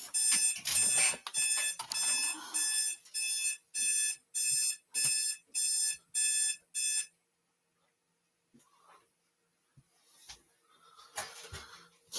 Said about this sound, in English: That was the alarm to wake me up just in case I fell asleep